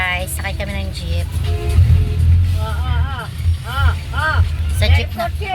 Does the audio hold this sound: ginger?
no